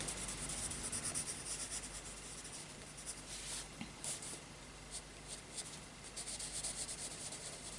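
Neocolor I wax crayons rub across printed paper in close, quiet strokes, a soft continuous scratchy scribbling with small irregular pulses, no voices.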